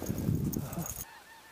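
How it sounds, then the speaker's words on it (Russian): Geese honk in flight, high overhead, a rising flock passing during a morning goose hunt in Saskatchewan, Canada, with decoys set out; the calls are dense and overlapping for about a second, then cut off into near silence. "идут гуси высоко, первые гуси"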